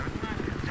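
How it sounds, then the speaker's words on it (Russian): An enemy helicopter in a video game: a steady, close rotor thump with rapid even blade chops, heard alone for a brief moment. "обнаружил вертолет противника"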